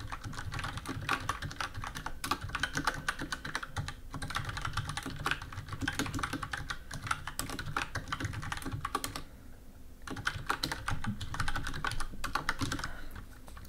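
Rapid, close clatter of typing on a computer keyboard while JavaScript code is entered, with dense irregular keystrokes running continuously and a brief pause near the end.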